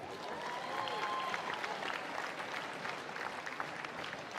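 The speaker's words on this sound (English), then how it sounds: "Another round of applause for all of them" Applause from a crowd at a women's basketball league grand final, honouring the technical officials, a steady, moderately loud round of clapping with a faint whistle-like tone early on.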